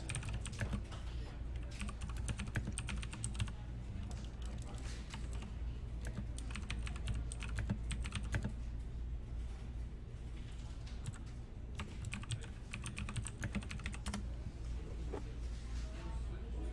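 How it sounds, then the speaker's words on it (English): Dense, continuous rapid clicking and riffling of Pokémon trading cards being shuffled between games at a tournament, steady and close, with faint background murmur. "So they're shuffling up for the next game."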